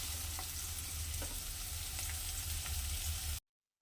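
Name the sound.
frying cashews in a pan for mutton curry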